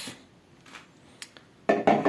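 A kilogram of beef tipped into a karahi pan for Pakistani beef karahi: a few light clinks and taps of metal, then two louder, denser thuds and sizzling clatters near the end.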